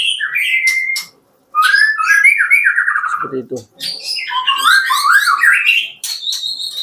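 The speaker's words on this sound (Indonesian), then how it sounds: "burung bisa sangat gacor sekali ya teman-teman" Oriental magpie-robins (murai) sing loudly and continuously, kept indoors on a cloudy day, with rapid whistled phrases, chirps and squawky notes overlapping as if several birds answer each other, with a brief pause and a short spoken remark midway.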